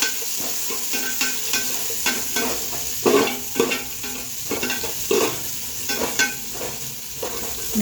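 Whole garlic cloves sautéing in a pan for Muslim-style ghee rice, stirred with a utensil. Irregular scraping and clinking strokes come over a continuous nearby sizzle, with no voices.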